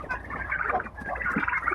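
A flock of about two-and-a-half-month-old broiler chickens feeding, with a continuous close chorus of soft clucking and chattering calls, no talk.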